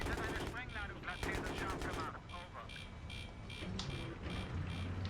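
Rapid gunfire aimed at a helicopter in Battlefield 3, bursts of fast shots crackling loud and close, then thinning into scattered sharp reports with a steady hum underneath and voices talking over parts of it.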